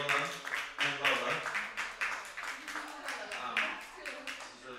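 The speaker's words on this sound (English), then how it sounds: "Let's give another round of applause for Aurélie, Camille, Lola, and Lola." An audience at a pop-up performance gives the performers a round of applause, with uneven bursts of clapping rising and falling while a voice speaks over it.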